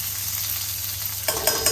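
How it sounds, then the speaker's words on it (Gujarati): Steady loud sizzling of bitter gourd sabzi frying in a thick kadai, with a burst of stirring and scraping near the end as chopped chillies are mixed in; no voices. "તો હવે તેમાં સમારેલા મરચાં મિક્સ કરી દેવા"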